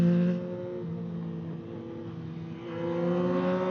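A 2025 Yamaha MT-09 SP motorcycle, about 120 horsepower, cruising while being ridden, its engine giving a steady, close hum that dips briefly and then rises again as the revs change, with no talking over it.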